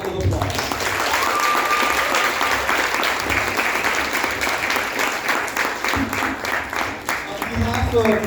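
Sustained audience applause fills a book launch for a novel, a steady dense wash of many hands clapping at close range throughout, with voices faintly underneath.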